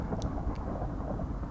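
A thunderstorm with high wind in a Minecraft tornado mod rumbles as a dense, steady wash of low thunder and rain, with a couple of faint high ticks.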